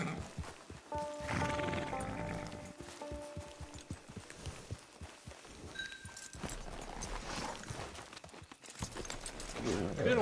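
A horse in the Western game Red Dead Redemption 2 clip-clops along and whinnies, hooves plodding steadily beneath game sounds and voices talking.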